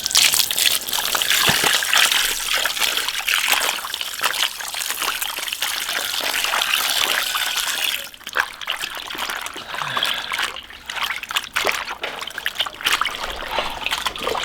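Running tap water splashes and trickles steadily over raw pork intestines being rinsed by hand in a kitchen, a continuous close gush with brief dips and surges as the intestines are moved under the stream.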